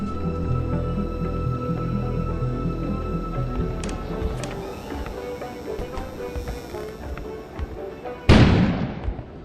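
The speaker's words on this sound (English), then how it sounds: "An explosion suddenly occurred outside." An explosion booms outside in the video game Kona, a sudden loud burst with a rumbling decay that cuts in near the end over a steady low ambient hum and scattered clicks.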